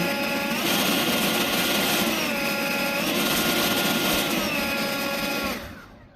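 An Atlas battery leaf blower roars steadily in turbo mode with a high electric whine, loud and close, the motor tone holding constant before winding down at the end. No one speaks.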